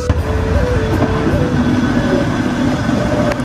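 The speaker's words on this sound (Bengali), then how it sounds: "চলে আসছে, ট্রাম চলে আসছে, আমরা এখন ট্রামে উঠবো" A tram in Qatar rolls in with a steady, loud low rumble and a thin mechanical whine that rises and dips, and a sharp clack near the end.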